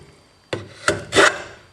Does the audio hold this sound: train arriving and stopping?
no